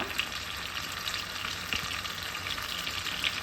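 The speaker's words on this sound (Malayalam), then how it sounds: "സൺഫ്ലവർ ഓയിലും ബട്ടറും കൂടെ ഒരുമിച്ച് മിക്സ് ആവുന്ന സമയത്ത് നമുക്ക് ഓരോ പീസായിട്ട് നമുക്ക് ഫ്രൈ ചെയ്തെടുക്കാം" Chicken pieces frying in a mix of sunflower oil and butter for Afghani chicken, giving a steady, close, even sizzle and crackle throughout with no talking.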